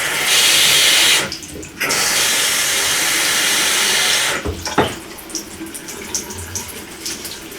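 Water pours steadily from a watered houseplant's pot through its drainage hole, a loud continuous rushing flow that briefly pauses, resumes, then gives way to softer trickles and handling noises.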